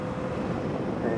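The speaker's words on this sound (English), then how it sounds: "Got a bit windy right there, it blew me off course a little bit" Steady wind rushing over the microphone during a motorcycle ride, a dense, even roar filling the whole stretch without breaks, close and continuous.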